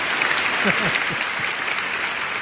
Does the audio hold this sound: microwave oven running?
no